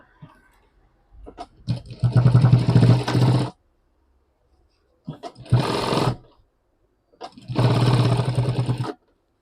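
A sewing machine stitches a bag made from a pant pocket in three separate runs of quick, steady stitching, each lasting a second or two, with short quiet pauses between them.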